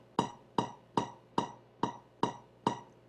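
A ukulele note is plucked seven times at an even, unhurried pace, each pluck quiet and decaying quickly before the next, with no talking.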